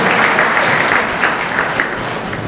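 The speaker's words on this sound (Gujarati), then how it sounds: "આવું જ્યારે પ્રસંગ હોય ત્યારે તાળીઓ પાડજો" An audience claps loudly and continuously at a family association gathering, a dense close wash of applause filling the whole moment with no pauses.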